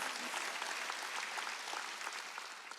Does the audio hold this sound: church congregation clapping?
yes